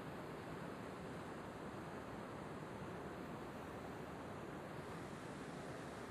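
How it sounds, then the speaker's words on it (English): A waterfall on the Enchanted Walk at Cradle Mountain in Australia roars as a steady, broadband rush, unbroken and without voices. "That is one hell of a waterfall."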